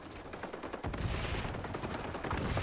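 Rapid bursts of gunfire in the video game XDefiant, steady and fairly loud across the whole stretch, picking up in intensity partway through.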